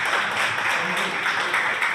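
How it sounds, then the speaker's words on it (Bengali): An audience at an international film awards ceremony gives a round of applause, a dense, continuous patter of many hands clapping at moderate loudness. "তো ওদের জন্য একটুখানি"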